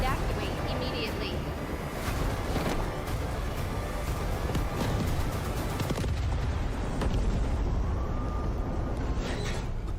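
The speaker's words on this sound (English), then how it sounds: "Hydrogen explosion at reactor 2." A reactor explosion in the video game Delta Force, with a sustained loud rumble and scattered booming blasts running under ongoing talk throughout.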